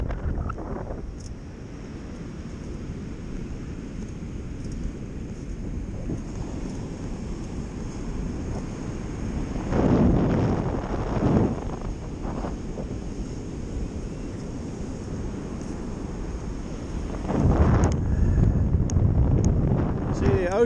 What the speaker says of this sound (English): Ocean is very angry.